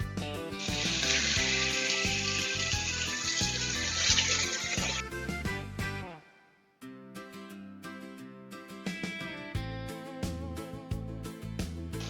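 Pieces of pork neck dropped into a hot pan, frying with a steady loud sizzle and a few spoon clinks; the sizzle cuts out near the middle before quieter frying sounds resume.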